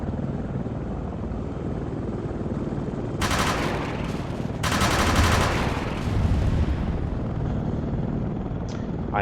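An AH-64D Apache helicopter in ARMA 3 fires its gun in two dense, sharp bursts of rapid shots over a steady rotor drone, with no talk.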